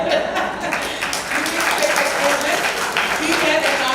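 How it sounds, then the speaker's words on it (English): An audience at a G20 symposium panel applauds, a steady, full wash of clapping that carries on throughout with voices faintly underneath. "Give her a round of applause"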